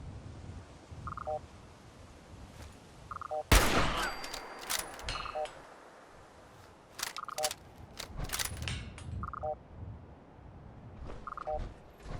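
Gunfire in the Fallout 4 game, a sharp loud blast followed by scattered bursts of shots, set against a quiet background with faint repeating electronic beeps.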